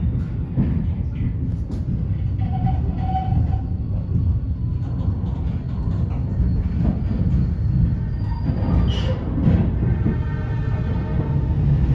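Argo Dwi Pangga express train running through a station near track 4 without stopping, a loud, close, sustained rumble with rolling wheel noise and brief squealing tones, continuous throughout.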